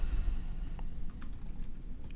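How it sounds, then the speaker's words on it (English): Fast, light clicking of typing on a computer keyboard, close but quiet, with a low steady room hum underneath and no voices. "Sorry for the typing."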